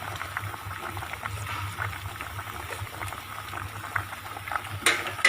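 A pot of pickled mustard greens soup with fried snakehead fish boils steadily at close range, giving a continuous dense bubbling and simmering hiss with no break throughout.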